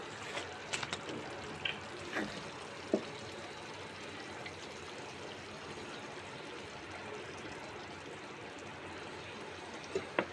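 Water poured into a pan of prawn malai curry makes a steady liquid pour and trickle, soft and continuous for about ten seconds, with a few small clinks near the start and the end.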